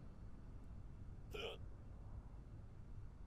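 A single short, sharp hiccup from a character in a zombie quarantine survival video game, standing out clearly over quiet background noise.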